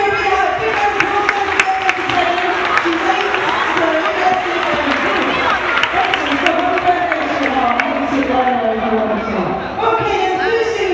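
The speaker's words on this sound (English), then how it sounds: "let's all give her a big round of applause." A sea lion show audience gives a round of applause, sustained crowd clapping mixed with cheering and chatter filling the full stretch at close, steady loudness.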